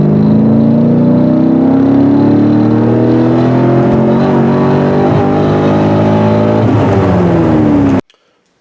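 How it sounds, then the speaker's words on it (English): A car accelerates hard in third gear on a test pull, and its engine note climbs steadily and loudly for about eight seconds before cutting off abruptly. "third gear pull now"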